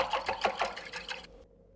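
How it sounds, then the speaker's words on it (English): Two eggs whisked briskly in a bowl for chicken fried rice, a fast rhythmic rattling of beats that fades and stops after about a second and a half. "Now crack 2 eggs and whisk."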